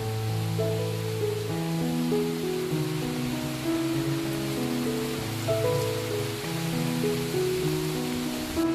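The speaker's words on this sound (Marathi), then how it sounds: "अचानक मध्ये भयानक आलाय पाऊस" Heavy rain pours in a steady, dense hiss that never lets up, with low droning tones running underneath.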